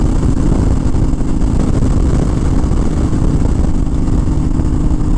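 Honda Fury motorcycle cruising in fifth gear, its engine a steady, dense roar blended with heavy wind rush, loud and unbroken throughout.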